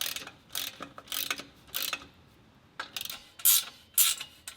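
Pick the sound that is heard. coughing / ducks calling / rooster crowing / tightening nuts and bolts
tightening nuts and bolts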